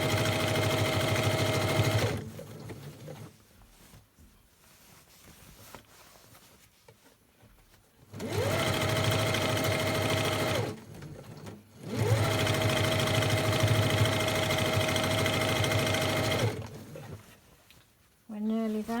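A sewing machine stitches a machine-washable lunch bag in three loud, steady humming runs of several seconds each, with quieter gaps between where a voice talks.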